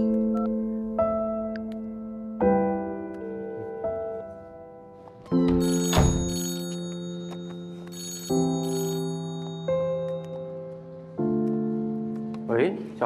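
A telephone ringtone plays a repeating melodic tune in clear bursts with short gaps, loud and close, ringing during a phone call.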